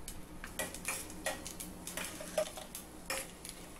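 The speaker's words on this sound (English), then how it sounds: "In the same pan, splatter 1 teaspoon of mustard seeds" Mustard seeds with gram dal and urad dal spluttering in a hot pan, giving a quiet run of scattered light pops and crackles with faint clinks, no voices.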